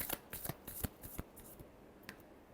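Tarot cards being shuffled by hand give a quick run of crisp, papery riffles and taps, close and fairly soft, lasting a couple of seconds with no talking.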